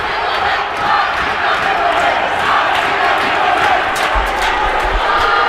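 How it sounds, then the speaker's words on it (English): Guilford fans cheer at a high school varsity hockey game, a dense, continuous crowd roar with shouts that stays loud throughout. "The Guilford fans cheering on the color commentary team."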